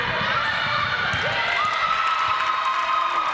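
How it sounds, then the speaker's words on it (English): Gloucester supporters cheer loudly at a university netball match against Solent, a dense, sustained crowd roar filling the hall with whistles and shouts, steady and close throughout. "the ball's been played out of play to a loud cheer from the Gloucester fans"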